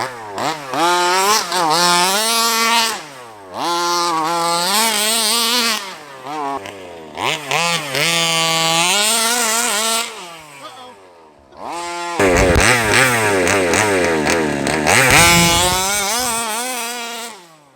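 Gas-powered Baja 5B RC car engine, its carburetor still needing tuning after a new air filter, revs loud and close in repeated rising and falling bursts with short pauses between them.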